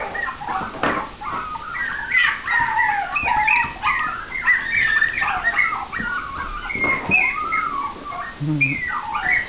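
Young puppies from a breeder's litter whimpering and whining continuously, a thin, high, wavering chorus of overlapping cries lasting throughout with no talk.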